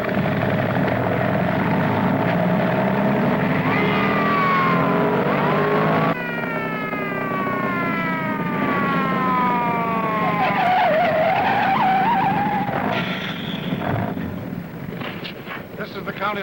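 A bus rolls along roads cleared by a police escort heading to the county line, with wailing sirens sweeping up and down over loud, steady engine roar and road noise that fades slightly at the end.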